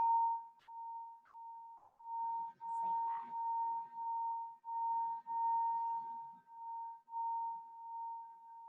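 A singing bowl is struck once with a glass mallet, then rimmed so a pure, steady ringing tone swells and pulses in slow waves, quiet and close, with faint handling taps underneath.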